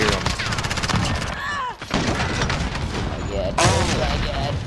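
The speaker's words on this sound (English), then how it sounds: "So many explosions everywhere." Explosions and gunfire fill a Modern Warfare multiplayer match, heavy booms and rattling bursts in a loud, dense barrage with a brief lull partway.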